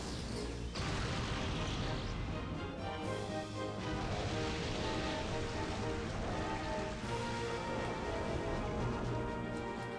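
Rain Dance conjures a continuous, even hiss of rain in the Pokemon Colosseum GameCube game, with a sharp crash near the start and no break throughout.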